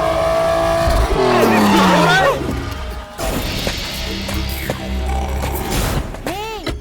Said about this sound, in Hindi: ऐसे मस्ती में गाड़ी से लेकर आ रहा है।